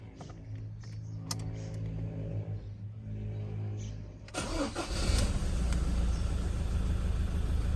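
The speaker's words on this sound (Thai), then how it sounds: "เดี๋ยวผมไปสตาร์ทให้ฟังเสียงเครื่องยนต์กันนะครับ" A 2014 Mazda BT-50 Pro Hi-Racer Freestyle Cab 2.2 pickup truck's engine cranks and catches at about four seconds, then settles into a loud, steady idle after a stretch of quieter background noise.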